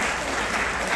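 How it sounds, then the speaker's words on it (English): Round of applause from an audience at a high school outdoor track and field banquet, a dense, steady wash of clapping filling the whole second at close, even loudness. "you can give yourself a round of applause on that"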